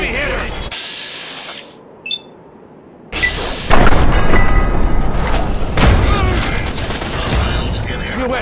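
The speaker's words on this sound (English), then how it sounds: "Opening fire!" Gunfire in the video game Fallout 3: loud, dense bursts of rapid shots and heavy booms that roll on almost continuously, broken by a brief lull, with voices calling out over the fighting.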